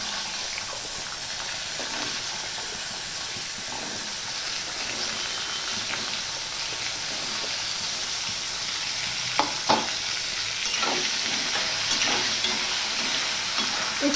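Cut potatoes frying in hot oil with spice tempering, a steady loud sizzle and hiss with occasional stirring scrapes and clinks in the pan.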